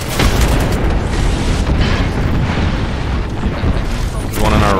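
Grenade explosions in a shooter video game come as dense, loud booms and bursts layered over constant battle noise, with players talking throughout.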